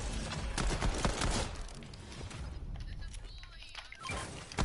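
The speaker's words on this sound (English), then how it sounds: "Somebody's shooting from here." Gunfire in a video game shootout, rapid bursts of shots and impacts filling the opening seconds, then a quieter stretch before another burst, with players talking over it.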